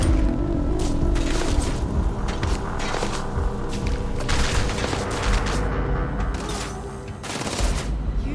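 Grenade explosions and weapon fire in the Starfield video game, heard as a loud, dense run of sharp blasts and bursts repeating over several seconds with booming low-end impacts and no talk.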